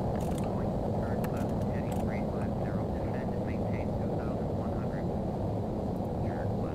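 A Boeing 737-800 in Flight Simulator X drones steadily with a loud, constant engine rumble, while someone talks excitedly over it throughout.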